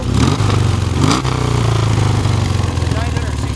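A 1976 BMW R60/6 motorcycle fitted with a homemade 2-in-1 exhaust runs close and loud, with a steady throbbing engine beat and a brief rev near the start.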